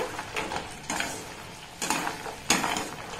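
Sweets stirred through hot sugar syrup in a pan over a low-to-medium gas flame, giving soft wet sloshing and scraping strokes with a few sharper knocks of the spoon against the pan, quiet and close.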